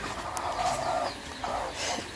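Desi hens clucking near their chicks, soft repeated clucks close by over a low, busy yard background, with occasional faint peeps.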